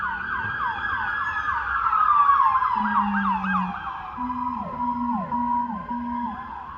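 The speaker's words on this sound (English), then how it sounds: "Every time I make a video, there's damn sirens." Several emergency sirens sound from a distance, fast yelping tones overlapping with slower wailing ones and a low horn-like tone, moderately faint and continuous.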